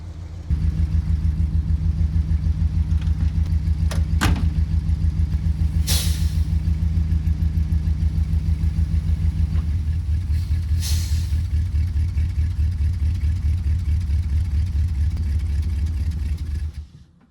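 A 1972 International Cargostar truck engine idles in a steady, loud low rumble, and the tone shifts slightly partway through. A few faint clicks and knocks sound over it before it cuts off at the end.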